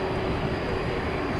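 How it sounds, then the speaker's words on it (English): A UPS cargo plane takes off at night from DFW Airport, a broad, steady jet roar that fills the sound evenly at moderate loudness, with no talk over it. "Louisville-bound UPS planes taking off from the west side tonight."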